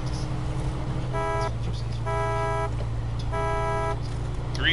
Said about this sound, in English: 3 honks for coming in.